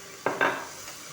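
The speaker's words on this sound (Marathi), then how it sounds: "कांदा पण तेलावर छान परतून घेणार आहोत।" Onion and tomato sauté in oil in a pan, heard as two quick, soft stirring scrapes over a faint sizzle, quiet and alone.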